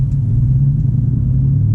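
A Ford F-150 with a catted Y-pipe, 3-inch straight pipe and Gibson muffler with dual 2.5-inch outlets holds a steady, deep exhaust rumble at idle, loud and even throughout.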